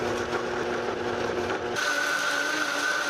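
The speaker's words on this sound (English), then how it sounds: "now we're gonna blend until smooth." A blender whirs continuously at close range blending salsa, its motor pitch shifting once as the mixture smooths, then it cuts off abruptly.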